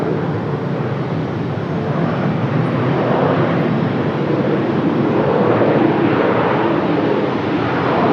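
An arriving airliner on the Miami flight rumbles loudly and steadily as it comes into Raleigh-Durham airport, a broad unbroken engine roar with no talk.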